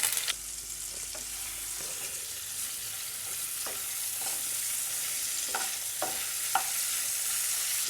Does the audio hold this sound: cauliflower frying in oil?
yes